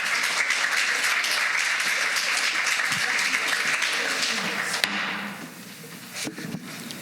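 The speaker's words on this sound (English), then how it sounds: "Let's give them a round of applause." Applause for tenth grade Humanities students after a mock My Lai trial, a dense sustained clapping from an audience that fades after about five seconds into scattered claps and room noise.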